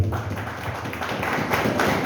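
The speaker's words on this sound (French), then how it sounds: "Allons applaudir à cause de mon Dieu de la vie." A church congregation claps together during a French-language service, a steady wash of many hands that holds at an even level for a couple of seconds, fairly close and full, with no voices over it.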